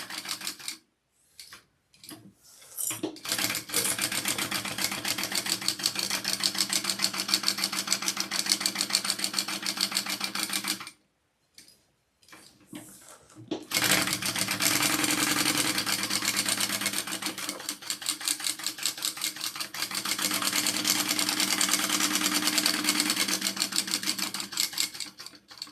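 A sewing machine bastes around the edges of bag panels with fast, steady mechanical stitching in two long runs separated by short stops and starts, close and loud, with no talking.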